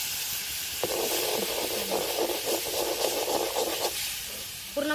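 Gravy stir-fried in masala for a dry soybean curry hisses and sizzles steadily in the pan, with a burst of stirring in the middle and a scrape at the end, no voices over it.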